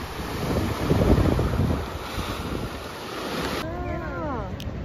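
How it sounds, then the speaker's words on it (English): Ocean waves roll onto the beach at Oarai, Ibaraki, a continuous rushing surf swelling and receding under heavy wind buffeting, with a brief warbling tone near the end. "it was so calming to listen to the sound of waves"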